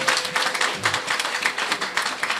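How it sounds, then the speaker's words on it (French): A church congregation applauding during a sermon, a rapid patter of many hands clapping in uneven bursts that rise and fall, fairly close, with no voices on top. "Applaudissez alors"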